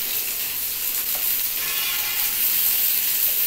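Green banana paste frying and being stirred in a wok, a steady close sizzling hiss with soft scraping, no voices, growing slightly louder toward the end.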